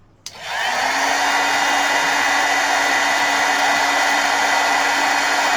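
A heat tool melting embossing powder on a card switches on with a click and then blows a steady, close, loud whooshing hiss for several seconds.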